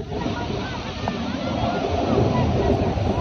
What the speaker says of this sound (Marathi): या नदीतून प्रचंड प्रमाणात पाणी वाहत जाते आणि ते धबधब्याच्या स्वरूपात खाली कोसळते